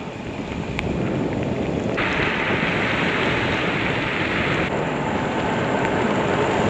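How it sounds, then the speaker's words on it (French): Rain falls during a bike ride over the Col de Bacchus mountain pass, a dense, steady hiss mixed with wind rush that holds at a constant loudness with no talk. "Et il pleut toujours."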